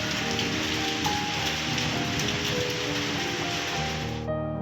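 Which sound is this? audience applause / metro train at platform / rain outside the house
rain outside the house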